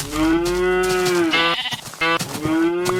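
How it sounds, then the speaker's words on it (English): A cow from the video game Minecraft moos in two long, loud, close calls, the first drawn out for over a second and the second following after a short pause, with no talk over them. "Then cows were added."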